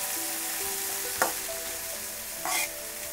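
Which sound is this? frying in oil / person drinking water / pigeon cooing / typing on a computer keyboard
frying in oil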